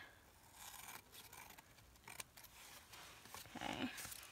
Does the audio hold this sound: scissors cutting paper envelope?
yes